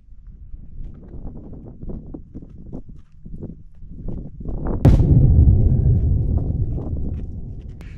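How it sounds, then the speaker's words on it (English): Soft hoof steps of a wild horse clop irregularly on the ground, then a gust of wind rumbles over the microphone as the walking continues. "Wild horse. Wild horse."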